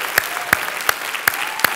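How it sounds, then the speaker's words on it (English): Applause from a church congregation, a soft continuous patter of clapping with five evenly spaced, louder claps standing out, fairly close. "will you just give him a round of applause"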